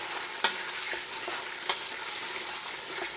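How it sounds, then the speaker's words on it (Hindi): Meat frying in a pan with dried garlic and ginger for Pakistani haleem, a steady close sizzle with a few sharp stirring scrapes cutting through, no voices. "इसके साथ भी आपने 2-3 मिनट तक बस आपने इसको भून लेना है"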